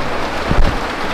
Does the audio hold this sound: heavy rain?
yes